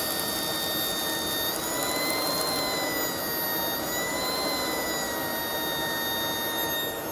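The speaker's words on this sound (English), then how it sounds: "Next thing I found was the Shark stick vac, and it appears to work." A Shark cordless stick vacuum found discarded at the curb runs on a full battery, giving a steady, loud high-pitched motor whine with sustained tonal harmonics that holds evenly throughout, with no talk.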